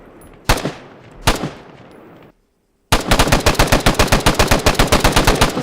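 G3 battle rifle from the Global Mobilization mod in a video game: two loud single shots with echoing tails, a brief silence, then a rapid sustained burst of automatic fire, close and punchy with no voices.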